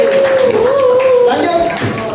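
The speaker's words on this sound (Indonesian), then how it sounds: "Iya, jawabannya benar. Tepuk tangan." A classroom of students claps together after a correct answer, a brief burst of scattered applause with children's voices and a sung or called-out tone mixed in, close and fairly loud.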